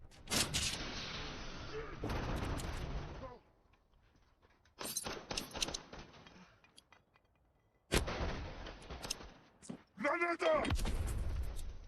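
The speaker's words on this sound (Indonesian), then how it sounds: "Alhasil, baku tembak pun terjadi antara Yas dengan Samidi" Gunfight gunshots from a film crackle in dense, loud bursts separated by short quiet gaps, with sharp, rapid reports packed together like a fusillade.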